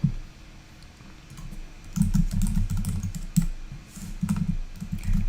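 Someone types a short note on a computer keyboard, making close, irregular bursts of clicking keystrokes with brief pauses between.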